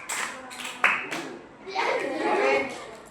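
Children in a multigrade classroom do a rhythmic class clap. The claps sound close and lively, with children's voices calling out over and between them.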